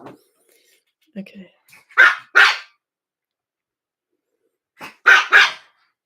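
A dog barks twice, then after a pause barks twice more, loud and close, with a few faint small sounds in between.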